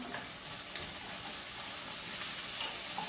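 Food sizzles steadily in a hot pan, a soft continuous crackle and hiss that stays fairly quiet throughout with no talking.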